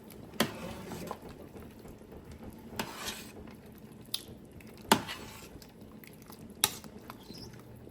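Tomato soup being stirred in a pot for a prime rib dish, a faint scraping and clinking of a utensil against the pot with soft sizzling, broken by several sharp knocks across the stretch.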